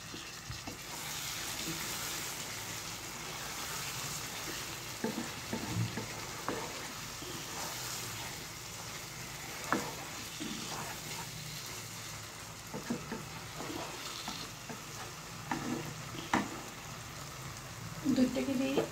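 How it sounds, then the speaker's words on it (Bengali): Masala paneer simmers in a pan after a splash of milk, a soft continuous sizzle and bubbling with occasional clinks of utensils, while someone talks quietly over it. "সামান্য পরিমাণে আমি একটু দুধ দিয়ে দিচ্ছি।"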